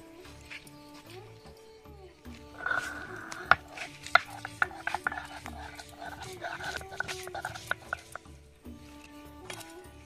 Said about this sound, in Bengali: তো মা এখন এগুলো বেটে নেবে।